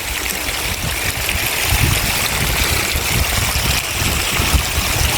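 Irrigation water flows and gurgles steadily along a channel through a groundnut field, a continuous close rushing with soft splashing and no talking.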